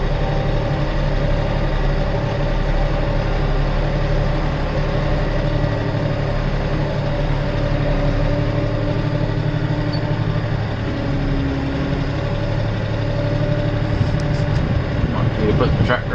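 A tractor engine runs steadily in 4-wheel drive on a warm day, a continuous low droning rumble with a brief clattering change near the end.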